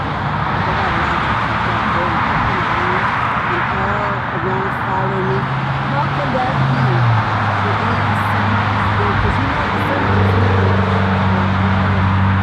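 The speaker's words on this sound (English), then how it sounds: "They got trucks like that one right there." Heavy trucks rumble through a busy street in traffic, a steady low engine drone with passing vehicles, loud and continuous throughout.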